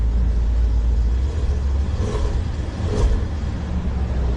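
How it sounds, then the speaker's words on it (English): Exhaust of a 2015 Maserati Quattroporte GTS with its 3.8-litre twin-turbo V8 rumbles loudly and steadily close by, swelling in two brief revs partway through. "see if you can hear that exhaust"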